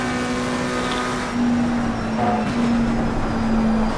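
A McLaren racing car engine in a racing video game at Paul Ricard drones at a steady, fairly even pitch, held in a smooth cruise with a slight rise midway, without talking.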